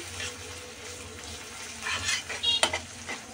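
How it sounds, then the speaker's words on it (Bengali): Sliced onions, green chillies and garlic fry in soybean oil with a soft steady sizzle, while a utensil stirs and scrapes the pan in a few quick clinks near the end. "পেঁয়াজগুলোকে ভালো করে ভেজে নেব একটু।"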